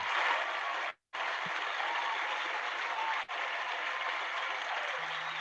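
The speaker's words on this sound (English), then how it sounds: "Hold on, I got to get the applause for this one here." Canned applause sound effect: a steady wash of clapping that cuts out abruptly for a moment and then resumes, with no talking over it.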